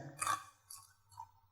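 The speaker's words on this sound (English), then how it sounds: "It's dried up, now it's crunchy. Hope you can hear that." Crisp crunching of salted, dried beef tallow residue being chewed up close: a loud crunch, then two softer crunchy bites spaced about half a second apart, with quiet chewing between them.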